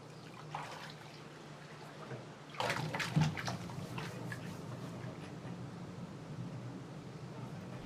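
A newborn baby is washed in warm bath water, with soft sloshing and trickling that swell into a louder splashing burst partway through, then settle into a steady gentle wash. No voice is heard.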